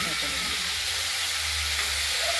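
Potatoes, bori and flat beans seasoned with salt and turmeric fry and get stirred in a pan, giving a steady, close broadband sizzle with a faint low rumble beneath, continuous throughout.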